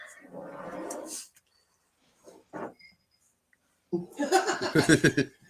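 A dog gives low growls in short bursts: one at the start, a brief sound midway, and a longer, louder rumbling stretch near the end, with quiet gaps between them.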